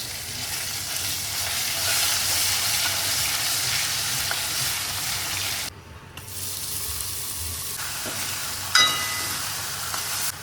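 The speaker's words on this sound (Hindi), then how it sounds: "ऑयल हो गया है, उसमें मैं डालूँगी 1 चम्मच जीरा, थोड़ा और हींग, तेज पत्ता, 1 चम्मच लहसुन अदरक का पेस्ट" Cumin, asafoetida, a bay leaf and ginger-garlic paste sizzle in hot oil for a mixed dal. The sizzle is steady, loud and close, then drops briefly before returning, with a faint clink near the end.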